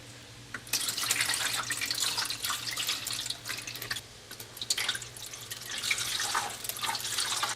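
Rainwater and tap water pour into the reservoir of an AeroGarden Farm 24, a continuous splashing, trickling stream close by with small surges and dips and no talk.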